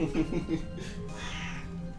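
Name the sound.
cat meowing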